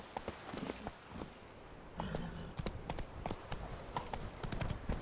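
Hooves of the horse Roach clip-clopping in The Witcher 3 game, a quick steady run of hoof strikes close by, moderately loud with some ambient game sound around them.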